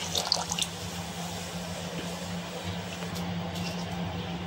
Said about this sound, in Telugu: దీంతో టమాటోలు ఉడికించడానికి వాటర్ వేసుకున్నాం